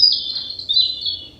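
A small bird chirps in a quick, high tweeting call that runs nearly continuously for about a second and a half, close and fairly clear over a soft low background.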